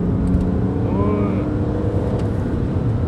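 A BMW 330d E92 xDrive diesel engine pulling under acceleration, a continuous engine drone heard from inside the car with a brief rising whine partway through.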